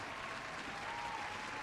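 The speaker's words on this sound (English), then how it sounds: "let's give a final round of applause for Hui." Short burst of applause from an audience at an online poetry anthology launch showcase, a faint, even patter of clapping without any rise or fall.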